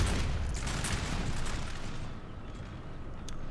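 An infantry musket volley in the Napoleonic Total War III video game rolls out as a loud, crackling mass of overlapping shots, fading into a lower rumble with a few scattered distant reports.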